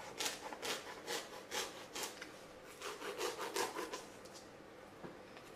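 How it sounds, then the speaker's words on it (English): Wood being sawn by hand, a blade rasping back and forth in steady strokes at close range, moderately quiet and with no voices over it. "You're sawing it off now."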